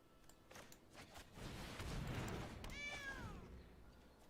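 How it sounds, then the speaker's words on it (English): A very small kitten lets out a single thin, high, drawn-out meow, faint and close, after a few soft rustles and a brief muffled noise. "That was the noise of a very small kitty."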